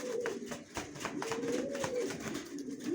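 Racer pigeons cooing close by in a steady, rolling murmur of soft throaty calls, with faint rustling and no talk.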